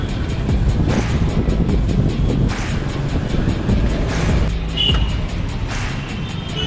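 Road traffic passes on a busy street in Raipur, a loud continuous rush of vehicles heard close by with a few rising swells.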